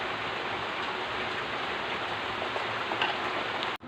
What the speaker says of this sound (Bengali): দেখুন খিচুড়িটা ফুটে উঠেছে সবজি দেওয়ার পরে।